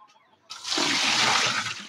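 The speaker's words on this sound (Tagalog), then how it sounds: "kahit na naka-close yung kanyang drain, ay nagde-drain siya dun para lagyan natin tubig" A washing machine drains water steadily even with its drain set to closed; a loud, continuous gushing rush starts suddenly after a brief quiet moment and keeps flowing without a break.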